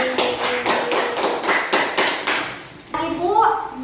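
Children in a classroom clap together in a rhythmic run of about ten claps for a group's presentation, loud and close, before the clapping stops and a voice begins to speak.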